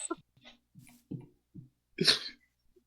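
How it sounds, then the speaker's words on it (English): Short, wet allergy sniffles and snorts come in a quick irregular series, ending in one louder sneeze-like burst, close and otherwise quiet. "I happen to have the sniffles."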